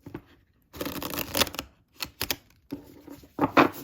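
Tarot cards shuffled by hand, soft papery riffles and flutters coming in uneven bursts with brief pauses between them, quiet and close.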